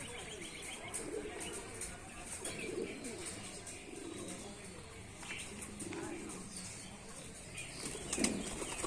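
Rajshahi Giribaz pigeons feeding on wheat, khesari and peas, with wing flaps and soft cooing over a busy, steady background of close scuffling and shuffling.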